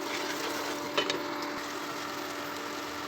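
A spoon stirs spiced soya gravy in a pan, giving a brief scrape or two over a steady sizzling hiss that stays even throughout.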